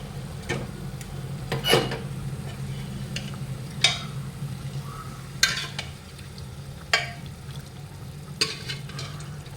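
Mutton pieces and soup going into hot frying oil and being stirred, a steady low sizzle under repeated clinks and scrapes of a spoon against the pan, no talk.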